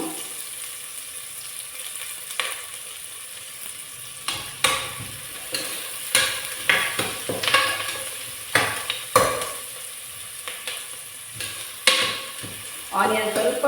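Onions and curry leaves fry in a pan for a mutton gravy, a constant sizzle broken by repeated sharp clinks and scrapes of a spoon stirring against the pan, close and fairly loud.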